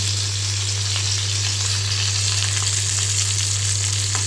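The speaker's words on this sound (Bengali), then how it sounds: "এটা আড়াইশো গ্রাম সজনের ডাঁটা এরকম হয়েছে তো এটা দিয়ে দিয়েছি তেলের মধ্যে একটু ভেজে নিই" Drumsticks (moringa pods) frying in mustard oil give off a steady, dense sizzle that runs loud and close without a break, with small crackles scattered through it.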